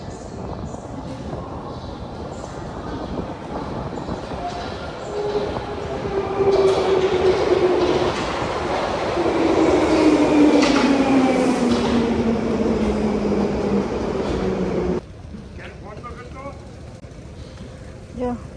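A London Underground train pulls into a station platform deep below ground, its loud rumble swelling before a long descending brake whine fades and the train settles, then the sound cuts abruptly near the end.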